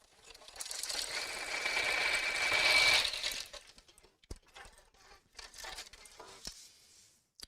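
Sewing machine stitching an evening bag, a steady close whirring run of about three seconds that stops abruptly, followed by scattered soft clicks and handling noises.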